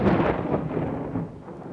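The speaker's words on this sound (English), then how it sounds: "Yes, the rain clouds can summon lightning." Thunder from lightning out of rain clouds in the video game WorldBox, a low rolling rumble that fades over a couple of seconds, heard alone without talk.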